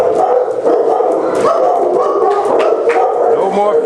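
A big play group of dogs barking, yipping and whimpering close by in a loud, continuous, overlapping chorus, with a person talking among the barks.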